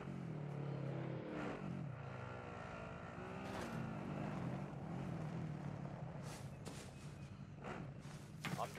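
A vehicle driven in the Call of Duty: Modern Warfare video game, its engine droning steadily with pitch rising and falling as it speeds up, plus a few sharp clicks and knocks near the end.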